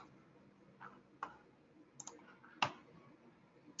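A computer mouse clicks a few times, faint and sparse, with sharp, isolated taps spaced unevenly over a quiet room background.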